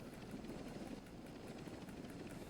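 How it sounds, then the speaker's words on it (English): Exfil helicopter in the Call of Duty Modern Warfare III video game, a steady low rotor and engine rumble held at constant loudness throughout, with no talk over it. "when I'm on the exfil helicopter"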